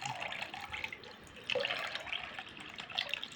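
Milk poured into melted sugar in a pan while making egg pudding, a faint close trickle and splash with small drips and a brief clink partway through.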